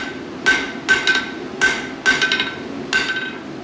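A hammer strikes a metal bar being upset during forging, five sharp ringing blows at a steady rhythm, each with a bright metallic ring, close and loud over faint background noise.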